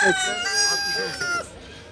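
A rooster crows loudly and close at a busy poultry market, one long strained call trailing off, with clucking fowl and people talking around it.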